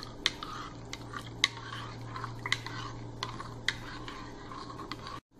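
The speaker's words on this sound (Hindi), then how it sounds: "और नींबू का रस। हम इसे अच्छे से मिक्स कर लेंगे।" A spoon stirring cucumber juice mixed with lemon juice, soft close scraping and light clinks against the container, repeated several times at a quiet level before stopping abruptly.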